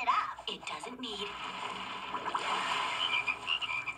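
Cartoon frogs from a Loud House episode croak in a dense, warbling chorus, with a voice talking over the start.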